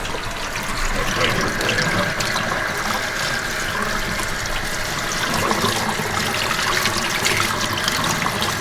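Hot tap water runs steadily and loudly over a dragon fruit and glacier blue spiral tie-dye tee being rinsed in a sink, a continuous close rushing splash with no pauses.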